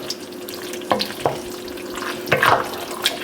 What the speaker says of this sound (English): And let's give that a stir.